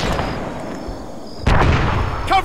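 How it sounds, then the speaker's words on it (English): Grenade launcher shots toward enemies hidden in smoke in the military shooter Arma 3, a steady rumble of distant battle followed by a sharp loud blast and a short burst of rapid cracks at the end. "Let's fire a few grenades their way then."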